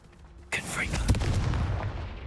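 Confringo blasting spell cast in Hogwarts Legacy, a sudden loud burst that hits at once and rolls into a rumbling, crackling explosion with a sharp secondary pop, sounding close and full.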